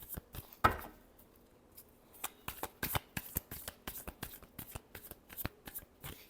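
Tarot cards being shuffled by hand during a reading: a sharp riffle near the start, then a steady run of crisp, close flicking and slapping card sounds, fairly quiet and without talk.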